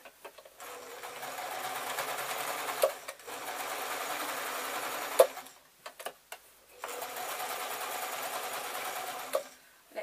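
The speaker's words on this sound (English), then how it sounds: "I'm going to place that in the machine, and all I need to do is I need to sew up to this pocket." A sewing machine stitching a painted tote bag up to its pocket runs in two long steady whirring bursts, close and continuous, separated by a brief pause with small clicks and handling noises.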